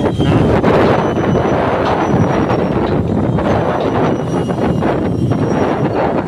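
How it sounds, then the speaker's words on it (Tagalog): Strong wind blasts loudly across the microphone in continuous buffeting gusts at a railway construction precast yard in Santa Rosa, Laguna, a dense roaring rush with no clear voices. "Malakas po po ang hangin."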